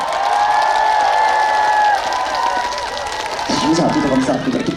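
Audience at a groundbreaking ceremony at Jeonju Convention Center clapping and cheering for a singer, a steady crowd wash with a musical tone running beneath it.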